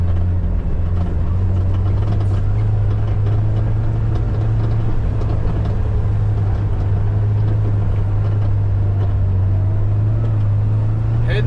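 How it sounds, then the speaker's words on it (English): A 2024 Kawasaki Ridge XR side-by-side coasts downhill on engine braking, a steady loud low drone holding the whole time, with wind and terrain rumble layered over it and no distinct throttle changes. "No brakes needed with the engine braking on the Ridge."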